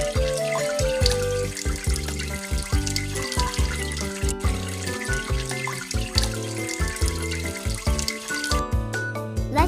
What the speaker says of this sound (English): Let's clean soap by water.